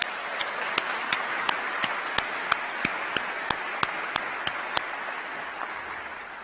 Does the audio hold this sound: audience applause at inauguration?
yes